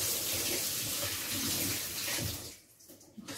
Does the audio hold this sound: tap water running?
yes